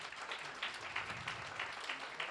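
An audience applauds colleagues at a workshop on psychology in integrated risk and disaster management, a steady wash of many hands clapping at moderate, fairly distant level for a couple of seconds without talk.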